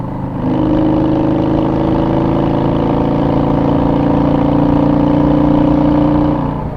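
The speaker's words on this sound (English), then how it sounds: "But it's missing, like misfiring when you give it throttle." A Yamaha V-Star Silverado motorcycle engine runs steadily under throttle with a loud, continuous drone, misfiring as it pulls, heard close and alone for the whole stretch.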